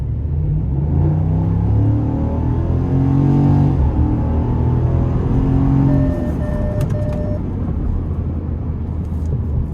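A 2026 Ford F-150 Lobo's 5-liter V8 pulls hard from the cabin, a deep loud rumble rising through the revs for several seconds before easing off into a lower steady drone.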